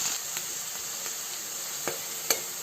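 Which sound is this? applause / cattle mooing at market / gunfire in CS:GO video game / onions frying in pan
onions frying in pan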